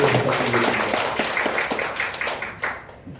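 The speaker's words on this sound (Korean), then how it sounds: "네, 박수" A lecture audience at a church discussion forum breaks into applause, a dense patter of many hands clapping steadily for about three seconds and tapering slightly at the end.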